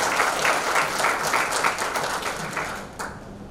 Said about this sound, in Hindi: एक बार ताली बजा करके सबका स्वागत कर दीजिए